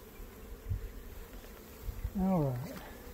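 Honey bees buzz around an open cutout hive as a low, steady drone, with one bee humming close by and sliding in pitch. Faint handling noise sits beneath.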